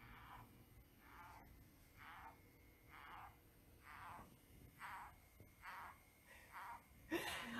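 A pickerel frog calling in Connecticut, a faint series of about ten short, evenly spaced rasping croaks, roughly one every two-thirds of a second, with a brief louder noise at the end.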